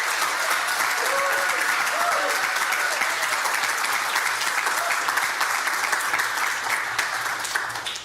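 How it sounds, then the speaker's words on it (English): Sustained, loud applause from a live audience for a guest on a women-focused podcast, steady dense clapping holding for several seconds before easing slightly at the end. "Please give Betty a nice round of applause."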